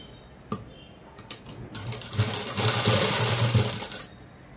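Sewing machine stitching a lining onto the neck of a ready-made dress, a few short clicks of positioning, then a fast continuous mechanical whirr of needle strokes that stops abruptly.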